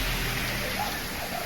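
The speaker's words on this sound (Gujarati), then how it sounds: "અહીંયા તો પોરબંદરમાં કેવો વરસાદ આવી પડ્યો છે" Unseasonal rain pouring down in Porbandar, a dense, steady hiss of falling water with no break.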